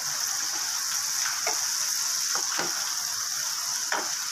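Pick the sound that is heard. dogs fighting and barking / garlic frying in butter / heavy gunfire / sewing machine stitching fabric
garlic frying in butter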